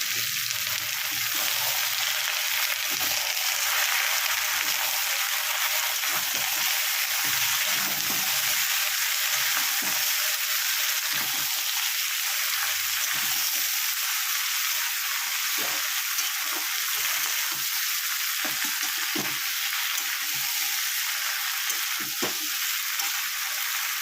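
Greens stalks cut for Bengali puin shak chochori frying in fish oil, a steady broad sizzle with scraping stir strokes throughout, close and continuous with no voices.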